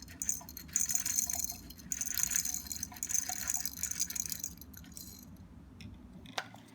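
A metal sample is slipped gently into water in a graduated cylinder, giving soft, quiet trickling and splashing that settles after a few seconds, followed by a light clink near the end.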